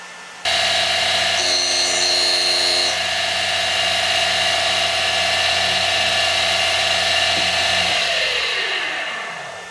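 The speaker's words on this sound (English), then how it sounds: "Once we have that back grind, and then we'll rotate and grind all the way around." Deckel SO single-lip grinder grinding a D-bit, a steady motor whine with a sustained high grinding tone, a brief extra ringing at the start, then the tone drops away near the end.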